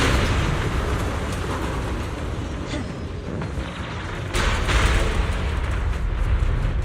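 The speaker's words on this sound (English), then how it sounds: "The explosions are becoming more frequent." Continuous rumbling explosions fill the scene in the video game Zenless Zone Zero, with a dense, roaring blast texture that swells louder partway through and no talking.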